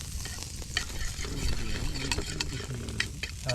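Food fries in a hot pan with a dense, close crackling sizzle, broken by irregular scraping stirs; no voices.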